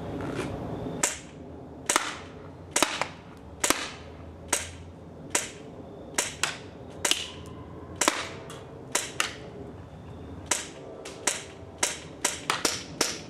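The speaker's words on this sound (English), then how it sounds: "shooting test 15 feet for the combat zone enforcer" A Uramex Combat Zone Enforcer gun fires about twenty sharp, snapping shots in a fairly steady rhythm during a 15-foot shooting test, each crack loud and close with short gaps between, and no talking.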